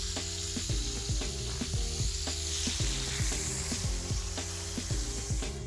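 A whole John Dory fish sizzles steadily in a hot pan, a constant frying hiss with rhythmic clicking and clattering over it, and no talk.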